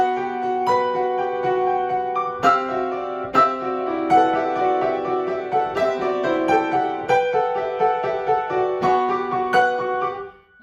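Hollow Bastion theme from the Kingdom Hearts video game soundtrack, a steady, full melodic piece with sustained layered tones and regular note attacks, played continuously without any voices.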